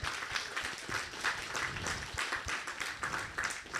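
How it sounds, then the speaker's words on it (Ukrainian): A church congregation applauds, a moderately quiet, scattered patter of many hands clapping that continues evenly for a few seconds. "І також ми хочемо оплесками подякувати вам."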